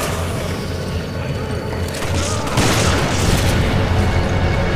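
A grenade blast in Resident Evil 5 co-op play lands as a loud boom with a dense rumbling tail, set against steady, noisy game sound.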